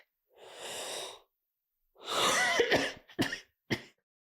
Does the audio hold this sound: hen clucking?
no